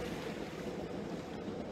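Ocean waves at the shore on an overcast morning with somewhat high surf, a steady broadband wash of water and wind with no distinct breaks, moderately loud and continuous throughout.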